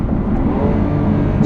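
A Lamborghini Aventador SV engine in Corsa mode, downshifting from fourth gear, gives a loud, close, continuous mechanical roar with a rising and falling rev note and no talk.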